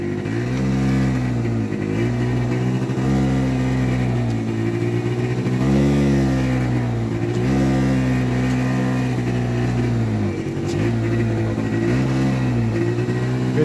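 TGB Bullet scooter engine revving continuously under throttle while climbing uphill, with a fault that makes it cut out at high revs and load; loud, close, steady drone with repeated rises and dips in pitch, no talking.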